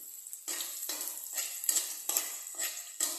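Garlic sizzles in a hot pan for ginisang monggo, a Filipino mung bean stew, with a steady close frying hiss broken by about six regular bursts as a utensil stirs it.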